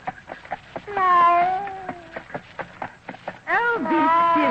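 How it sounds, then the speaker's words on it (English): A tomcat named Caesar meows twice, long wavering calls around light clip-clopping from a horse-drawn carriage. "and a cat"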